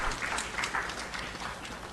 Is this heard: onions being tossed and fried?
no